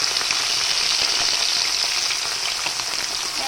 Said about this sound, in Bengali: ওই যে একটুখানি নুন দিয়েছিলাম তেলের মধ্যে, সেই জন্য মাছগুলো একদম গোটা গোটা ভাজা হবে।